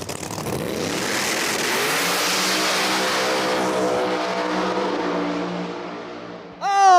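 Drag race cars at a No Prep Kings event in Brainerd, Minnesota, roaring off the line and accelerating hard down the strip, a loud sustained engine howl that rises in pitch, then a sharp new engine rev at the end.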